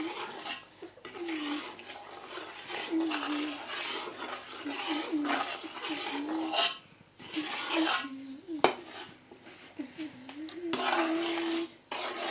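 Wheat flour being stirred in ghee in a pan for adadiya pak, with a steady scraping and clinking of the spoon against metal and occasional sharper knocks, moderately close and continuous.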